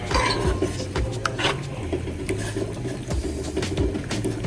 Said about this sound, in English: I tend to move the shrimp around a lot when they're cooking